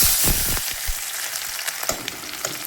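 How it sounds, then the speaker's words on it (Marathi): Onion, green chilli and garlic fry in hot mustard oil with a bright, steady sizzle and scattered crackles and pops, close by and moderately loud. "राईचं तेल मस्तपैकी गरम झालेलं आहे आणि आता मी कांदा हिरवी मिरची आणि लसण"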